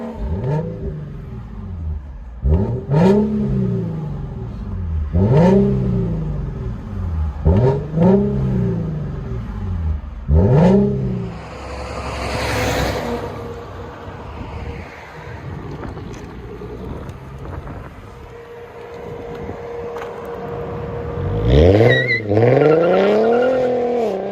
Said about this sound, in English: Infiniti Q60 2015. Let you guys hear on that.